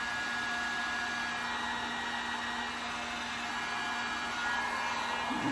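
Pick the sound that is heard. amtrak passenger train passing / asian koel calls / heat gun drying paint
heat gun drying paint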